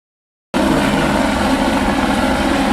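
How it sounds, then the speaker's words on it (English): Helicopter in flight, a steady, loud rotor and engine roar that starts abruptly and continues evenly for the rest of the moment, with no voices. "Correct. Helicopter."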